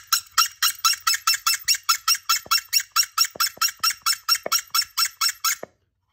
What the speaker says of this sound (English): until I clean up the hinges, it sounds like a seagull